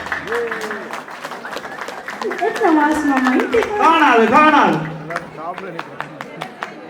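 An audience at a Tamil New Year 2025 community celebration in Buffalo, New York, applauds loudly throughout. A crowd's crisp clapping runs continuously while voices talk and call out over it, growing busier in the middle before thinning to scattered claps.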